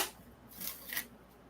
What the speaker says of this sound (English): let me shuffle out the cards